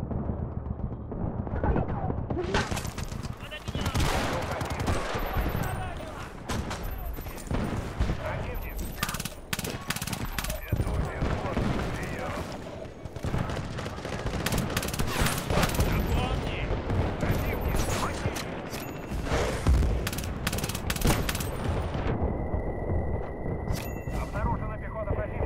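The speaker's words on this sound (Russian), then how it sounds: "Я в него не попал, хотя выстрелил в него." Rapid bursts of close, loud video game gunfire in dense volleys and automatic strings, continuing almost without pause, with a voice talking now and then.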